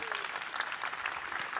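Steady applause from an audience at the draw ceremony for the 26th IHF Women's World Championship, a continuous patter of many hands clapping, moderately distant and fairly soft throughout.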